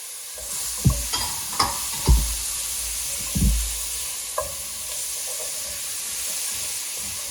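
Celery and other vegetables sautéing in a pot while a spoon scrapes the bottom, giving several distinct close scraping strokes over a steady low sizzle, with no talking.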